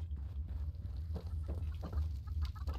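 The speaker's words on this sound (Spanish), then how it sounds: "¿Por qué oigo un pollo?" Chicken clucking in the video game Fallout 76, a series of short fowl clucks and chatter heard at moderate level over a steady low hum of game ambience.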